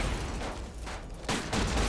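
Dense, rumbling explosions from the PS2 game Headhunter, rolling bursts overlapping loudly and closely over two seconds, with no speech.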